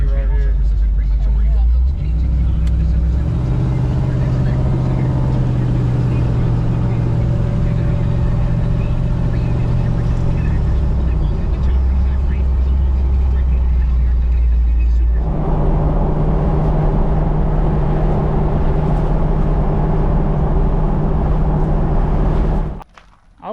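A Jeep Cherokee running on the road after a crossover steering repair, its engine droning steadily with a low rumble and rising revs, close and loud throughout, with cabin noise around it.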